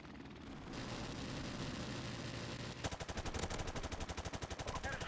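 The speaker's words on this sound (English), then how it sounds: "I'm trying to shoot through that." Rapid automatic gunfire in Call of Duty: Modern Warfare Remastered, a search and destroy match against bots, comes in as a steady rhythmic stream of shots after a stretch of hissing background noise, fairly quiet, with no talking.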